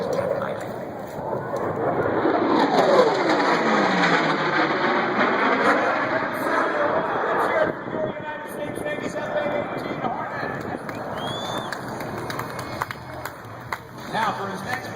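F/A-18 Super Hornet with F404 jet engines at an airshow, a loud sustained roaring whine with sweeping Doppler-like tones as the jet passes, fading somewhat toward the end with crowd noise beneath.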